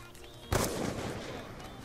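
A single sharp gunshot in a first-person shooter video game during a trickshot match, a sudden crack followed by a short decaying tail over quiet background.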